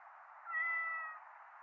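A cat meows while stuck in a tree in the video game 911 Operator: one drawn-out, clear meow heard over the steady hiss of a phone line.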